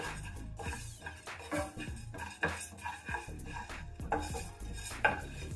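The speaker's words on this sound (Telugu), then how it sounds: "1 టీ స్పూన్ జీలకర్ర కూడా వేసుకోవాలి. వేసుకొని దూరగా వేయించాలి." Cumin seeds frying in a pan for an Indian gooseberry chutney, with repeated clinks and scrapes of a utensil against the pan over a low, steady background of cooking noise; no one speaks.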